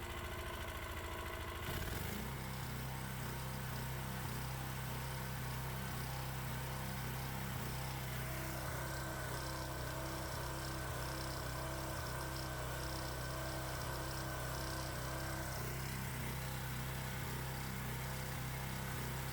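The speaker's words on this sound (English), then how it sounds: "Let's rev the engine for a moment." A 212cc Predator gasoline engine starts up and runs loudly, holding a steady rough idle with some revving, alone without voices.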